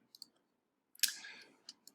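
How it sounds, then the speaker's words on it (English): A computer mouse clicks a few times in quick, faint ticks, with a brief louder rustle in the middle, in an otherwise quiet room. "Just double clicking on the component name, I can rename it."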